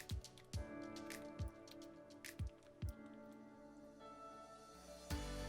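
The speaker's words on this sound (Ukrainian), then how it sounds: "У готову вівсянку додаємо 80 грам родзинок і розпущувач. 7 грамів буде достатньо. І знову все перемішуємо." Oatmeal being stirred with raisins and melted butter: about six soft, wet squishing strokes at roughly even intervals, close and quiet, with faint clinks between them.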